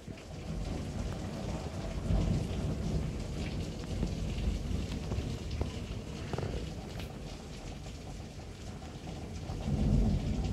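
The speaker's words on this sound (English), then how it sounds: "Bye, it's a storm." A January thunderstorm in Muldrow, with steady heavy rain and rolling thunder rumbling throughout, swelling louder near the end; no one speaks.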